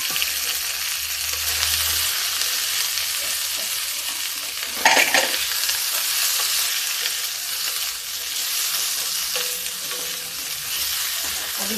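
Onion and cumin frying in hot oil, steady close sizzle throughout with a brief louder stirring scrape near the middle, no talk.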